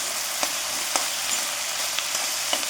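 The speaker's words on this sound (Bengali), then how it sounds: "একদম পুরো ভাজা করে ফেলবো।" Food fries in a pan with a dense, steady sizzle and occasional soft clicks of stirring, close and continuous with no voices.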